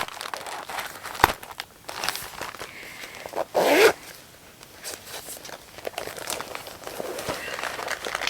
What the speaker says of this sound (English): And the zippered pouch with all the goodies.